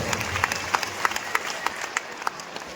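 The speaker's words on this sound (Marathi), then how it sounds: "सर्वांनी मोठ्या आवाजात टाळ्या वाजवून सद्गुरू माऊलींचे स्वागत करायचे." Audience clapping at a guru's welcome ceremony during a devotional gathering in Umred, heard as scattered, moderately loud applause with distinct individual claps punctuating a steady crowd patter.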